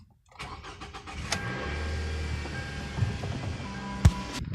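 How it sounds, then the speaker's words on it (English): A Toyota Camry engine cranks and catches, settling into a steady low idle, with a sharp clunk near the end. "the last car I finally need to move is the Camry"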